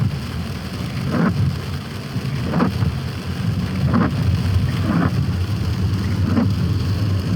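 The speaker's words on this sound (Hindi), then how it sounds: "पूरा इतना बारिश हो रही है।" Heavy rain pours during a drive on misty roads from Ramnagar to Marchula near Jim Corbett. A loud, constant roar of rain on the car is broken by a few dull, regular thumps.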